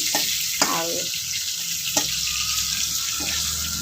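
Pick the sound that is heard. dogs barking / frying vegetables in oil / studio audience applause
frying vegetables in oil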